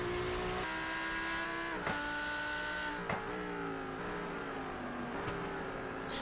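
A race car engine in an IMSA sim at Watkins Glen drones steadily at high revs, with pitch shifting through several gear changes and brief dips, loud and close with no talk.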